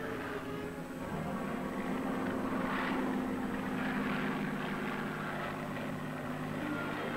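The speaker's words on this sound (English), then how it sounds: "Down the plane drops to 800 feet." A low-flying propeller airplane drones overhead above the desert floor, a steady, moderately loud engine rumble that swells slightly and holds throughout.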